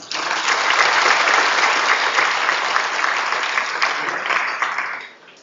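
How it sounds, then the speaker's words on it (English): At an inaugural ceremony for a new B.Tech batch, a hall audience applauds the incoming students and parents. The clapping is loud, full and continuous, then tapers off quickly near the end. "A big round of applause,"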